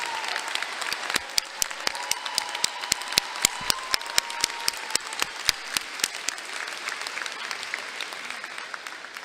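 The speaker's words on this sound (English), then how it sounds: "Let's have another round of applause for that beautiful anthem." Applause at a fall university commencement: a general wash of clapping from the crowd overlaid by sharp, evenly spaced claps from one nearby person, gradually thinning toward the end.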